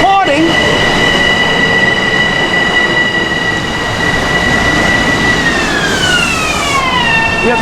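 LIRR train pulling out of a station: loud steady rumble of wheels and motors with sustained tonal whine that shifts pitch near the end, close by, no talking.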